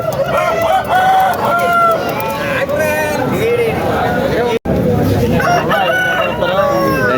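A rooster crows loudly several times amid clucking country fowl and the busy chatter of people at a village chicken market, with one brief cut in the middle.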